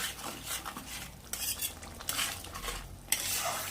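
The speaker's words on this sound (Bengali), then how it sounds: "এবার আমি সবগুলো একসাথে কষিয়ে নেব।" Mutton masala spices being stir-fried together in a pan, with a utensil scraping and clinking against the metal in uneven strokes under a faint sizzle, close and fairly quiet.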